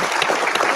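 Audience applause at a summit-style talk event, a dense burst of clapping from a crowd filling the short moment.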